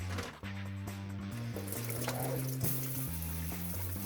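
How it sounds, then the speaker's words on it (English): Tap water runs steadily into a sink while catfish are rinsed clean, a continuous close splashing flow with small shifts as the fish move under the stream. "I like to wash my catfish off again to make sure they're good and clean."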